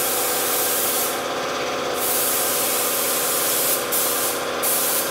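An air-powered paint spray gun fed by a workshop compressor fires short hissing bursts, one longer and two brief, over a constant mechanical drone of machinery.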